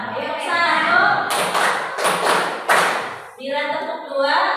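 A group does a call-and-response clapping exercise in a classroom or training session, a few sharp bursts of hand claps between stretches of spoken instructions and voices.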